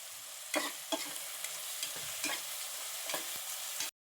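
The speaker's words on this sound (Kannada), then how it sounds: "ಟೊಮೊಟೊ ಎಲ್ಲ ಚೆನ್ನಾಗಿ ಫ್ರೈ ಆಗಲಿ" Onions and tomatoes frying in a pan for soya biryani, a soft continuous sizzle broken by a few stirring scrapes and taps, close and fairly quiet, with no talking.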